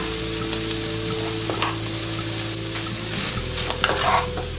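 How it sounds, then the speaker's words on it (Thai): Pickled mustard greens, tofu and shiitake mushrooms stir-fried together for a vegetarian dish, with steady sizzling and repeated scraping of a spatula against the pan, close and continuous with no talking. "จากนั้นก็แค่ผัดทุกอย่างให้เข้ากันนะคะ"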